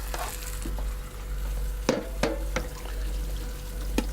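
Cored pineapple pieces searing in a hot pan make a soft, constant sizzle over a low electrical hum, broken by several sharp close knocks as pieces or utensils hit the pan.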